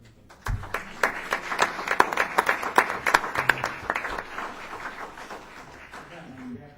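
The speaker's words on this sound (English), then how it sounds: "Have a nice round of applause for everybody." Scattered clapping at a village board meeting, a modest round of applause from a small room, uneven claps rising and then fading, fairly quiet.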